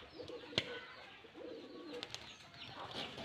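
Soft cooing from Rajshahi Giribaz pigeons in a loft, low repeated murmurs broken by a couple of brief sharp taps and light rustling, quiet and nearby.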